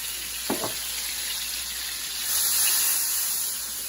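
Garlic sizzling in hot oil for a beef stir fry, a steady loud frying hiss that swells midway as it settles into the pan, with a couple of brief clinks near the start.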